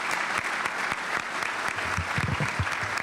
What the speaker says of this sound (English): So can we give Mike and his whole team a round of applause?